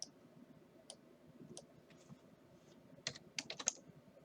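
Typing on a computer keyboard during SketchUp modelling, with scattered single key clicks early on and a quicker burst of several keystrokes near the end, faint and close against low background noise.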